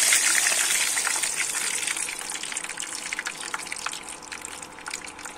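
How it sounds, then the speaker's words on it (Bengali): Water poured into a pan of spices and chillies frying in oil, a loud gushing splash and hiss at the start that settles into a softer bubbling sizzle, close and alone. "এবারে কিন্তু আমি জল দিয়ে দেব।"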